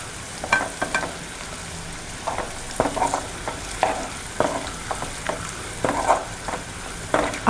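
Ginger and garlic fry in a pan for an aloo vange curry while a spoon stirs them, giving close, irregular scraping strokes over a low sizzle, with no talking.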